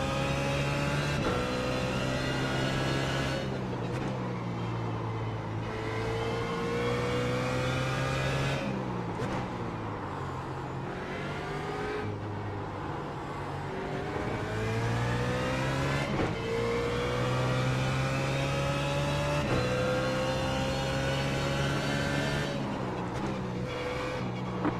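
A GT3 race car engine revs hard at Mid-Ohio in a racing game, its steady howl rising and falling through repeated gear shifts and corner lifts, loud and continuous with no talking.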